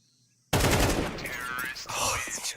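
Counter-Strike gunfire in a professional esports match: a sudden loud spray of shots breaks a moment of silence, with an excited commentator talking over it.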